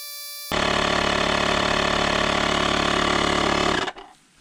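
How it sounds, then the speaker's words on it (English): Yantu portable tire inflator filling a car tire switches on abruptly, then runs as a loud, steady mechanical hum with a rapid rattling pulse for about three seconds before cutting off and fading out. "It's actually filling up that tire pretty fast compared to my other air inflators"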